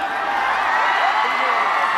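A festival audience in Dhangadhi clapping and cheering for Milan Kumar, a dense, sustained roar of applause and whoops filling the space without a break.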